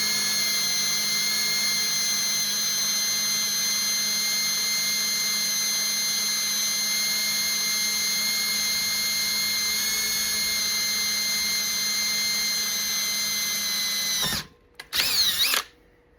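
A power drill whines steadily and loudly while boring steam holes into an engine cylinder head, a sustained high-pitched drone that stops abruptly, followed by a short final burst.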